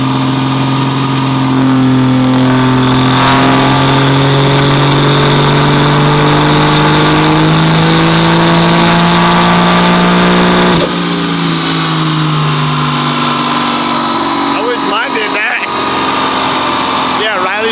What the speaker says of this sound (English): Truck is literally ear-piercingly loud.